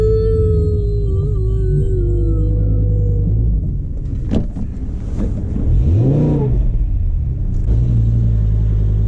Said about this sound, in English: Well, I tried to do a burnout,